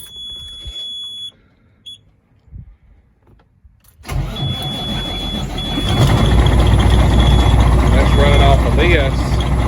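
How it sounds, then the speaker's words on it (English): A Peterbilt 379 truck with a Cat C15 engine cranks without firing: after a steady warning beep and a near-silent gap, the starter kicks in with a loud, sustained, rhythmic churning whirr that keeps going to the end. "we try to crank it."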